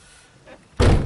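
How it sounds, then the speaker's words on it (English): A car door of a 2000 Honda Civic pops open with a loud, sharp thunk after a soft click, close and brief. "open the door up,"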